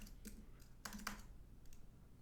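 Keys tapped on a computer keyboard while a web form is filled in, a few scattered clicks and short bursts over a quiet background hum, fairly close.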